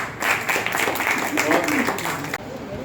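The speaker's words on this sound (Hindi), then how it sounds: "सभी ताली बजाओ अपने लिए।" A group of children in a classroom lesson clap together for themselves, a dense, steady patter of hand claps at close range that lasts about three seconds, with voices mixed in and a brief drop just before the end.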